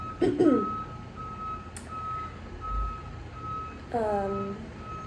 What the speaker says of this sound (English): sorry about the garbage truck, I like having my window open.